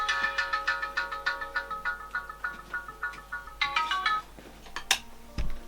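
An incoming-call ringtone from a phone, a bright melodic tone pattern repeating in regular pulses, moderately loud, then cut off by a short knock or handling noise near the end.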